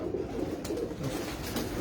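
A pigeon cooing nearby, soft low repeated coos over a steady background murmur, with no one speaking.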